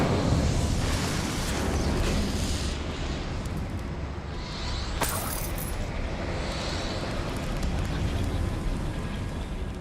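An Incendio fire spell cast in Hogwarts Legacy gives a continuous roaring, crackling burst of flame, loud and steady for nearly ten seconds, with a brief sharp pop near the middle.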